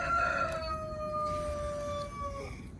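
A rooster crows in a backyard chicken coop, one long drawn-out call with a tapering end over a low background murmur of hens.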